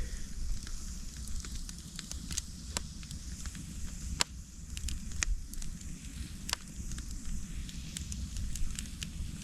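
A campfire burning wood offcuts gives off scattered sharp pops and snaps over a steady soft hiss and low rumble, the pops irregular and moderately close, with no talk.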